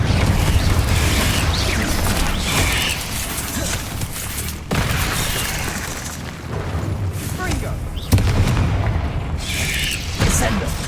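A warlock in a video game casts the Confringo spell: loud explosive booms and clanking, mechanical bursts recur over a dense, continuous wash of game noise, with sharp hits near the middle and end.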